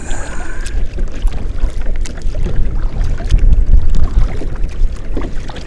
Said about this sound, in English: I'm getting a little more wind than I thought I was going to get.